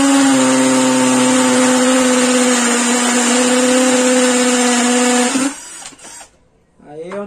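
A Vonder cordless drill with a 6 mm bit whines loudly at a steady pitch for about five seconds, then slows and stops, leaving brief handling noise.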